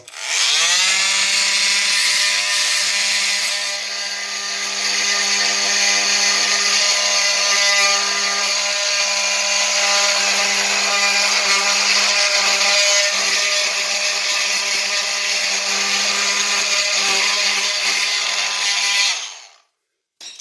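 A loud, steady high-pitched grinding whine from a rotary power tool with a grout bit grinding out ceramic floor tile grout, running continuously for about twenty seconds before cutting off.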